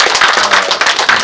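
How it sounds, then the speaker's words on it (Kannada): Dense, steady applause from a crowd at a film press meet, with many hands clapping at once in a loud, continuous patter and no voices over it. "ಈ ಎಲ್ಲ ಚಪ್ಪಾಳೆಗಳು"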